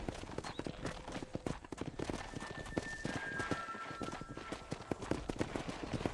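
Horses galloping in the video game Red Dead Redemption give a steady, fairly faint patter of hoofbeats, with a thin whistling tone drifting above them.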